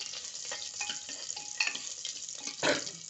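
Dry red chillies and onion fry for sambar while being stirred, giving a steady crackling sizzle with scraping stir strokes and a louder burst near the end.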